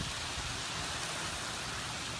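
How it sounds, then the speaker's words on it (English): Heavy sideways hurricane rain during Hurricane Irma in Miami-Dade roars as a dense, steady wash of noise, continuous and loud with no let-up and no voices. "you can see the relentless rain going sideways"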